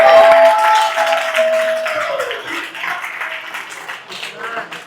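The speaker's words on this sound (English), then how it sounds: "Everybody give Matt a round of applause." Audience at a leadership summit talk applauding a participant, clapping that starts loud alongside a voice and sustained tones, then thins and fades over several seconds.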